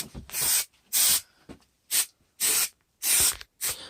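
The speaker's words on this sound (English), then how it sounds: "now we're going to just spray the sides again now" Spray bursts aimed at the sides of a homemade corner bass trap: six or seven sharp, hissing blasts of varying length, separated by short silences.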